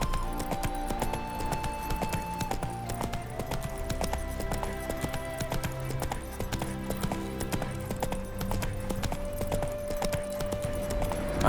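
Roach, Geralt's horse in The Witcher 3, walks with steady clip-clop hoofbeats at a moderate distance, blended into a dense bed of orchestral game music with no talk over it.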